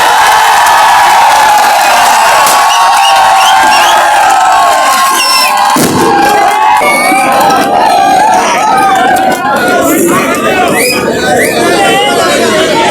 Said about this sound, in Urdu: اب میں چاہوں گا کہ مفتی محمد اسماعیل قاسمی صاحب کے لیے طاقتور تالیاں بجائیں.